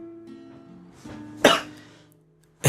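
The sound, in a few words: coughing fit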